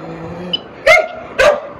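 Several dogs bark sharply nearby, with two loud, separate yaps about half a second apart after a faint whimper.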